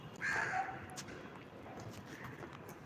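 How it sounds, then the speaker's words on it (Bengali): A crow gives a single short caw near the start, moderately close, followed by a quiet outdoor background. "চলো ততক্ষণে একটা কাক দেখাই তোমায়"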